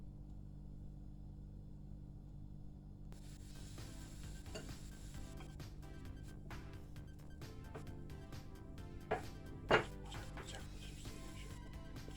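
Gözleme cooking in a pan, a steady low sizzle with soft scraping and occasional clinks of a utensil, fairly quiet throughout.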